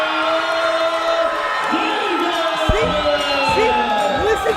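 A crowd of fight fans at a boxing bout after a split-decision result, loud sustained cheering, whooping and shouting filling the arena, with a voice over the noise.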